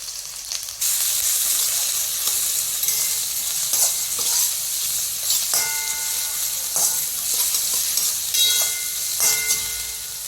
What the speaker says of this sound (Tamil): இஞ்சி பூண்டு, வெங்காயம், பச்சை மிளகாய் வதக்கிக்கலாம்.